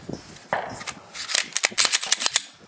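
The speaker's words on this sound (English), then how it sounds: "So now we're shooting the same gun, same ammo." Rapid string of sharp Glock pistol shots through a compensated barrel, firing standard ammunition, cracking out close and loud in an irregular burst of about a dozen reports after a couple of scattered earlier shots.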